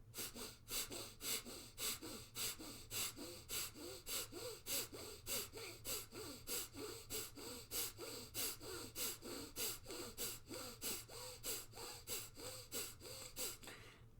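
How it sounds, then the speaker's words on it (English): Rapid, rhythmic nasal breaths during Kundalini yoga breath of fire practice, forceful even pulses repeating about twice a second throughout, steady and close with a low background hum and no speech. "begin that breath of fire"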